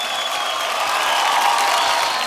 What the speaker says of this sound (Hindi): एक बार जोरदार तालियां नेहा डूपी अगले हो जाएं